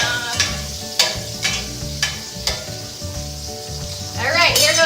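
Food sautéing in a pan sizzles steadily while a utensil scrapes and stirs at roughly one-second intervals, and the sizzle swells louder near the end.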